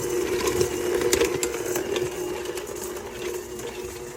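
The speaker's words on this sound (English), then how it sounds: "Now beat all the ingredients together until the mixture gets nice and creamy and smooth" Electric mixer beating cream cheese cake roll filling ingredients until creamy, a steady mid-pitched motor whir with scraping and clattering of beaters against the bowl, continuous and close.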